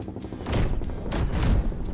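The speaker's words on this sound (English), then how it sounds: "you hear the sound of helicopters above, and then the sound of missiles and explosions happening" Explosions and missile impacts in a sci-fi audio drama scene, a few deep booming blasts with rumbling bursts in quick succession, loud and close.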